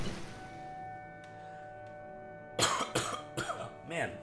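A person coughs several times in a quick cluster of sharp, harsh bursts after a stretch of quiet background, fairly close and moderately loud.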